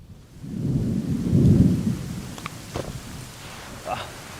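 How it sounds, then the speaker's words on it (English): Fake movie rain from a homemade DIY rain machine, a steady hiss of falling water with a rumbling swell near the start and a few scattered splashes and patters on hard surfaces. "this is actually fake movie rain"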